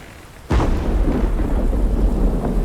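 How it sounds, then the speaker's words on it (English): A storm rolls over the open sea in the video game Under a New Sun, a sudden loud burst of thunder followed by a steady, dense roar of rain and wind that stays close and full to the end. "Oh yeah, and there is a storm"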